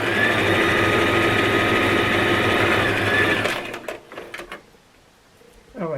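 A sewing machine stitching straight down the two sides of a fabric toiletry bag with black thread runs as a steady, loud mechanical whir for about three seconds, then stops, followed by a few soft handling clicks and rustles.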